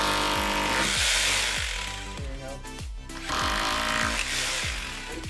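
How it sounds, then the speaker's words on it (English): A loud power drill whines and grinds into a backyard patio wall in two long bursts with a short pause between, the motor pitch shifting as it bites. "I'll drill that with the regular drill"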